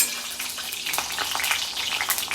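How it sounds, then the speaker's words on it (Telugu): Spices for a tempering sputter and crackle in hot oil, a steady close sizzle peppered with sharp pops throughout. "మంచిగా చిటపట్లాడాలి."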